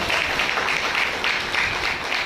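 A church congregation claps hands together in steady, rhythmic bursts of dense, crisp clapping, with no voices rising above it.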